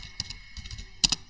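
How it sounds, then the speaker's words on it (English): Keys clack on a computer keyboard as a command is typed, a handful of close, crisp taps in an uneven rhythm with a louder pair of strokes near the end. "here I will type the command"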